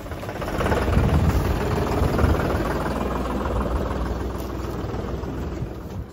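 A tractor engine rumbles loud and close as it pulls away with animals loaded for a dairy farm fair, a steady low drone that swells early and then holds.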